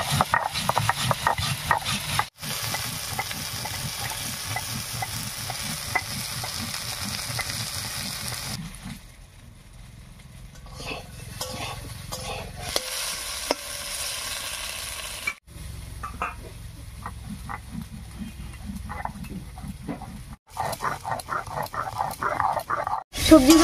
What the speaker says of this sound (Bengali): সবজিগুলো একটু ভাজা ভাজা হয়ে থাক